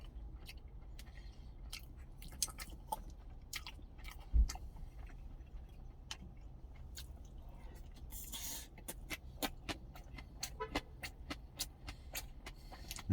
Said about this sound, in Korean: 파김치 한번 먹어보겠습니다